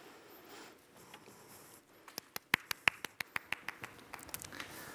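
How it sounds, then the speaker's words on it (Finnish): A small seminar audience welcomes the opening speaker with sparse applause: after a quiet start, about a dozen crisp, separate hand claps sound close by and fairly softly, and the room stays quiet in between. "Raikuvat aplodit."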